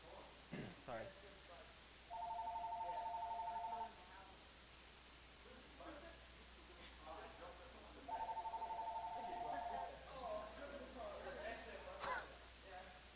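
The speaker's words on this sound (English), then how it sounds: "Yeah, there's the phone." Two bursts of a warbling telephone ring, each about two seconds long and several seconds apart, heard faintly over hiss with a person talking in between.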